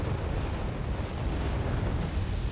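Bomb blast from a Phantom jet strike in the war strategy game Wargame Red Dragon, a loud, sustained low rumbling explosion filling the whole stretch with dense booming noise.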